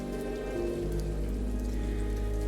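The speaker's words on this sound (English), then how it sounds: "But then the rain began to fall." Rain falls steadily in the dark fantasy game Ender Lilies, a constant close hiss of drops on surfaces with a low droning hum underneath and no voices.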